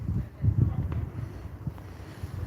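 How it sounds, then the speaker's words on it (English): Low, gusty wind buffeting the microphone in uneven rumbling bursts, fairly loud and close. "Oh, it's very windy."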